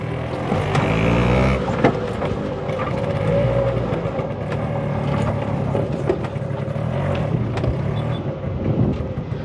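A vehicle engine drones loud and close as it accelerates and shifts from first into second gear in Jaffna, with a steady rumble, slight pitch changes and faint mechanical clicks.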